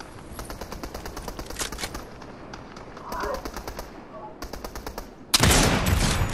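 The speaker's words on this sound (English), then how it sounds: "somebody shooting at me" Rapid automatic gunfire bursts in a Fortnite battle, repeated rattling volleys near and loud with a heavier burst at the end, while a player talks over them.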